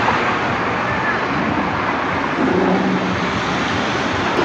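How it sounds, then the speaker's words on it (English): Surf rolling onto Pattaya beach in Thailand, a steady, continuous wash of waves with wind noise across the microphone, no distinct breaks, heard close and fairly loud throughout. "Ah, the beautiful beach of Pattaya."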